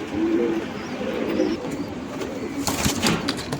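Allahabadi pigeons cooing softly at close range over a steady background hum, with a brief flutter of wingbeats near the end.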